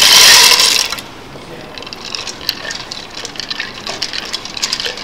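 Dried maize kernels tip into a pot of hot water mixed with lime, a brief loud pouring gush at the start, then quieter bubbling and clinking of grains settling in the liquid.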